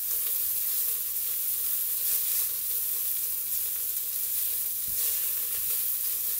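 Beef for boeuf bourguignon sears in a hot pan, giving a loud, continuous, even sizzle with no talking.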